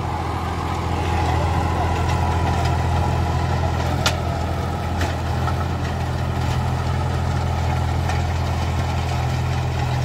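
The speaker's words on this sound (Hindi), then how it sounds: "महिंद्रा यूबो टच प्लस 405 आई बहुत गजब काम कर रहा है" Mahindra Yuvo Tech Plus 405, a three-cylinder 40 hp tractor, runs steadily with a deep, even engine drone throughout, heard close and loud with no talk over it.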